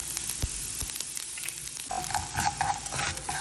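Fenugreek seeds dry-roasting in a kadai with a soft, low sizzle and occasional scraping stirs, quiet and close, growing a little busier toward the end.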